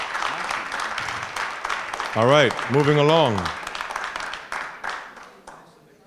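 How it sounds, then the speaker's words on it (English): An audience at a Toronto mayoral debate in Jane-Finch claps and applauds throughout, a dense crowd patter under a moderator's close spoken voice before it fades at the end. "Extended clapping is not welcome."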